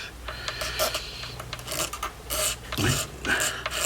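A blade scrapes lacquer off a Squire Goober Strat guitar body in short, raspy strokes of uneven rhythm, close and moderately loud, with no talk.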